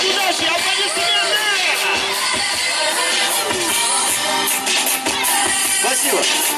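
Crowd at a Fight Nights 88 MMA weigh-in ceremony cheering and whooping, a dense, loud roar of shouts and babble that carries on steadily without a break.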